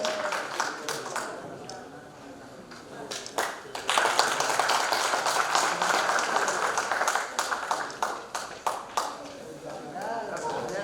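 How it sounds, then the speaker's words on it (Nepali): An audience at a singing competition grand finale claps to welcome a guest onto the stage. Lively applause swells partway through and continues under talking and background sound. "जोरदार तालीका साथ स्मृति राउतलाई स्वागत गर्दछौँ।"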